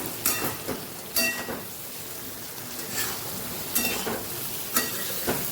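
Stuffed okra coated in masala is stirred in a pan, with soft, rhythmic scraping strokes about once a second over a faint, low sizzle.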